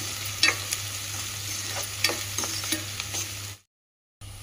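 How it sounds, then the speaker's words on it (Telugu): Green chillies fry in hot oil for a spring onion egg fry, making a steady sizzle broken by several sharp crackles and stirring clatters, until the sound drops out abruptly near the end. "పచ్చిమిర్చి వేసుకుంటున్నా అండి. కొన్ని మంచిగా ఫ్రై కావాలి. ఇది ఆయిల్లో మంచిగా ఫ్రై అయితే"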